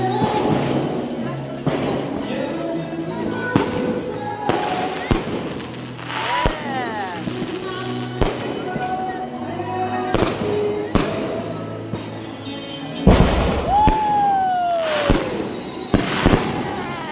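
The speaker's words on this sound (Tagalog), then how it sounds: "Please be seated as you witness today's Fireworks!" Fireworks at a college graduation bursting repeatedly with sharp bangs and thuds, whistling launches rising between them, and people cheering and talking in the background.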